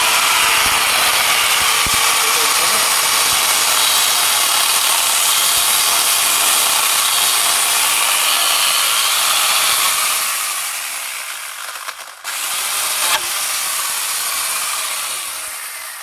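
A chainsaw attachment fitted to an angle grinder cuts through wood with a loud, continuous high-pitched whine and rasp, briefly dipping and catching near the end before resuming, with no talking.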